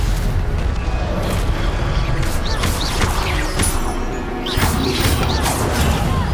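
Incendio and Stupefy spells fired in the Hogwarts Legacy video game, rendered as dense booming blasts and crashing impacts layered with whooshing effects, loud and continuous with a brief dip near the middle.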